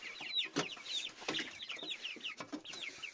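Month-old chicks and young chickens on a home farm cluck and peep in a busy, overlapping chorus, with sharp repeated calls close by and a steady flutter of chirps throughout.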